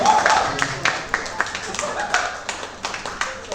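Audience at an Indonesian teachers' talk show claps, with scattered individual claps over a lively hum of crowd voices and talk, moderately close.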